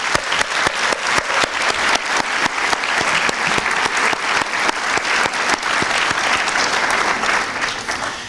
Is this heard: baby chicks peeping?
no